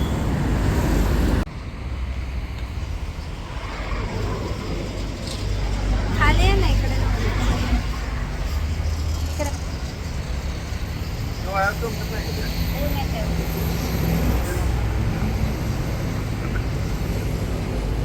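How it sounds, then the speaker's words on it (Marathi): Road traffic noise around a car stuck in a long jam on the route from Pune to Alibag beach, with a steady low engine rumble and passing vehicles, and people talking nearby over it throughout. "आम्हाला पुन्हा एकदा ट्रॅफिक लागले बघा"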